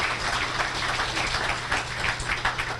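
An audience at a pro-life benefit banquet applauds with dense, even clapping that holds steady throughout, with no voices over it.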